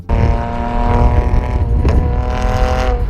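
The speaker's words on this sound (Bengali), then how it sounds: "রাজপথ জুড়ে দামি সব রেসিং কারের গগন বিদারী শব্দ" Powerful engines of expensive racing cars roar along a busy Dubai road at night, a loud, continuous revving drone with harmonic engine tones throughout.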